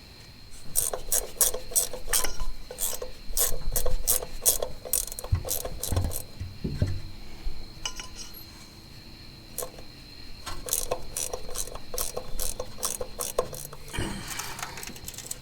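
A ratchet wrench tightens engine bolts on an old hydraulic digger, with rapid bursts of clicking strokes close up, interrupted by a pause and some clunks before another run of clicks.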